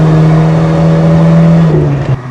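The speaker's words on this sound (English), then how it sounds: "The little motor sounds pretty good." A 1984 Ford Thunderbird Turbo Coupe with a 2.3-liter turbocharged four-cylinder and five-speed pulls hard under acceleration, a loud steady engine drone that holds up close before easing off near the end.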